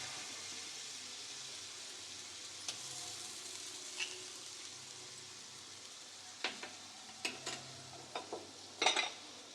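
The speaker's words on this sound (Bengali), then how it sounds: "এরপরে দেবো আদা বাটা" Ginger paste hitting a hot frying pan while cooking egg chicken moglai gives a soft, steady sizzle throughout, with a few sharp clinks of a spoon or utensil toward the end and no talking.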